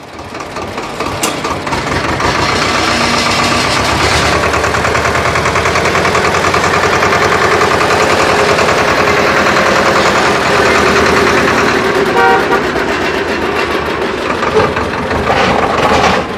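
A tractor engine idles on a roadside, a loud steady low rumble with rapid mechanical chugging that runs unbroken for over fifteen seconds.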